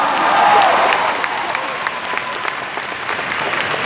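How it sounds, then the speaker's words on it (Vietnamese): A large audience at an Amway Founder Emerald recognition ceremony bursts into sustained, loud applause, the dense clapping cresting early and then holding steady throughout. "Một lần nữa các anh chị hãy hợp sức cho một tràng vỗ tay lớn nhất cho chính bản thân các anh chị ạ."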